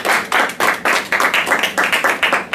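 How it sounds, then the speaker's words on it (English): Loud, close applause from a small audience at an entrepreneurship and residual-income networking presentation, rhythmic claps in distinct bursts for about two and a half seconds, with no talking over it. "Big round of applause for that too."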